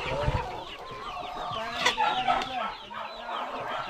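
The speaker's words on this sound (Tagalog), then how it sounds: "Maamo to yung mga manok na to." Chickens cluck repeatedly on a mountain hike in the Philippines, mixed with other bird calls and a few sharp peaks, with someone talking intermittently over the steady outdoor background.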